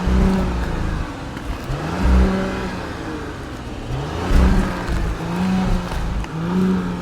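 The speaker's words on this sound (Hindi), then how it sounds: "साथ में चलो एक बार ना इसका एग्जॉस्ट नोट देखते हैं भाई" A dual-exhaust Audi RS Q8 revs repeatedly, its engine note rising and falling in several close, loud pulls with a fairly ordinary, non-sporty tone.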